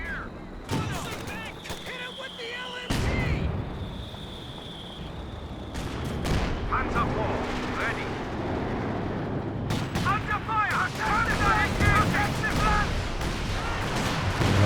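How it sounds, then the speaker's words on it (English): Artillery barrage and creeping barrage in Company of Heroes 2 on a 4v4 Lienne Forest match, a dense run of booming shell impacts and rolling gunfire, loud and continuous, with a commentator's voice over it. "Looks like he's making use of the barrage and creeping barrage combo"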